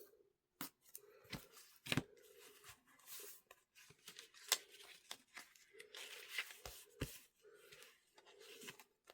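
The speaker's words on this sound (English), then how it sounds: "Tear this one." Paper is torn by hand for a small journal project: a series of close, quiet rips and crisp snaps separated by short pauses.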